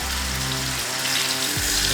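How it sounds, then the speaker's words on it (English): Grass-fed beef steak sizzles in hot oil in a pan, a loud, steady crackling hiss that goes on without a break, with low rumbles underneath. "And when you hear that sizzle, always lay steaks away from you when you put them in the pan."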